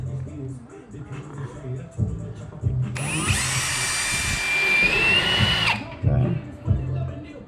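Power drill boring holes for hanging window blinds, a loud steady whine of about three seconds with a faint pitch shift near the end, nearby, framed by brief talk before and after.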